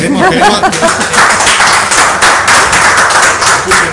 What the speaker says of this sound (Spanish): Escuchen el aplauso.